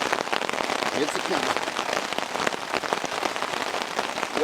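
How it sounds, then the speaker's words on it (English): Heavy storm rain pounds a campsite, a dense, steady patter of drops hitting close by with no let-up across the whole stretch. "I'd say this qualifies as camping in the rain."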